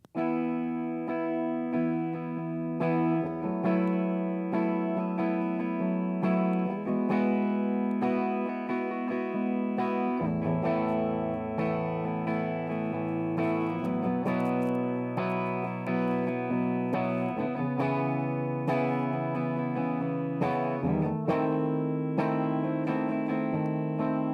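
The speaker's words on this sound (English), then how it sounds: "I'm just going to go in order every chord and strum." An electric guitar, processed with effects, strums a series of sustained chords one after another, each ringing out before the next change, with no voices.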